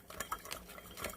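Spicy Samyang ramyeon noodles are stirred briefly, making soft, quiet scraping and clinking of a utensil through the noodles, close by.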